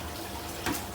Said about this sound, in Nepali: त्यसपछि यसरी पानी फाल्ने,